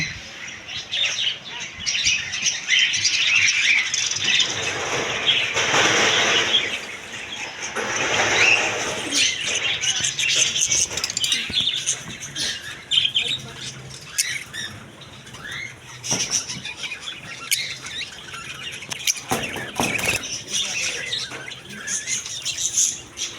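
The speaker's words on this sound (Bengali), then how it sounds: "পাখির খাবার আরও পেয়ে যাবেন সব ধরনের পাখি জাবা পাখি প্রিন্স পাখি লাভবার্ড পাখি" Many caged birds, including budgerigars, lovebirds, cockatiels and pineapple conures, chirp and squawk busily together at a bird market in Pabna, a dense, constant twittering with scattered sharper calls close by.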